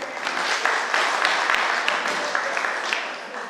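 Crowd applauding at a folk customs and traditions festival award ceremony, with loud, sustained clapping and some sharper individual claps that slowly taper toward the end.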